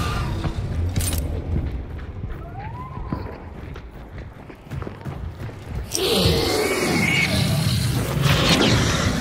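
A sticky bomb goes off in the video game Hunt: Showdown as a sudden deep booming blast with a rumbling tail, following quieter footsteps and movement noises.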